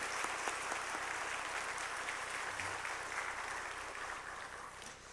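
A church congregation at a Wednesday service gives encouraging applause, a broad, steady wash of many hands clapping that slowly fades, heard from a distance in a reverberant hall.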